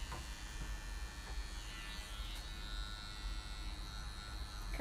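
A tattoo machine runs at 10 volts with a steady, faint electric buzz and hum that drones on without a break.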